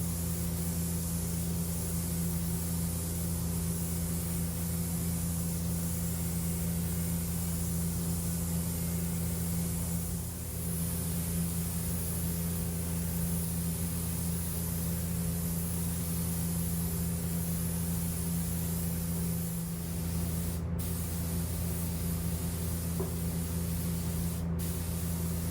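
A spray gun lays a lacquer coat onto a wooden table in a continuous loud hiss, with a low engine-like hum from the compressor steady underneath.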